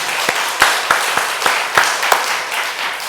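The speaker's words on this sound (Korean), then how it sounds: "하나님께 영광의 박수 돌려드리겠습니다." A church congregation claps during a worship service, a loud, close wash of applause broken by a few sharper, distinct hand claps spaced through it.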